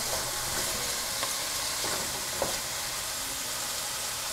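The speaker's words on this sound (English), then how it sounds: "It just sizzles away." Leeks, celery and carrots sizzle steadily in a hot pan, a constant crackling hiss with a few light clicks of stirring.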